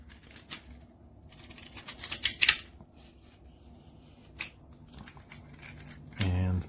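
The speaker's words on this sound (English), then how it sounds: "And then you can close it back up" Someone folds up an ALAFLY 4-in-1 extendable selfie stick tripod, making a run of soft plastic clicks and sliding rattles with a brief louder clatter near the end, all close and fairly quiet.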